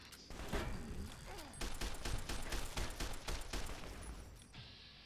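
Fallout: New Vegas gunfire during a fight alongside the companion Boone, with dense, rapid bursts of shots layered with impacts, steady for several seconds and fairly loud in the mix.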